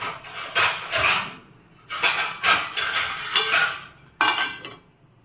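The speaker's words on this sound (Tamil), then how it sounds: "இப்போ மூடியை போட்டு மூடி வச்சுருங்க" A metal lid set onto a cooking pot while preparing soaked rava and poha batter for idli, giving several bright clanking and scraping bursts separated by short pauses, close to the microphone.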